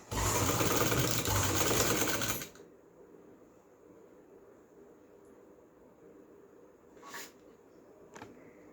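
Up close, a sewing machine runs fast and loud for a couple of seconds, making long stitches down the centre of a dress neckline, then stops, leaving a quiet room with a couple of faint clicks.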